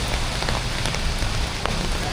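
Heavy rain pours down on the streets of Siam Square, Bangkok, a loud, constant wash of hiss and patter with scattered nearby drips.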